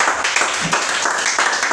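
Congregation clapping at a Sunday church service, steady rhythmic handclaps and applause filling the room at close range.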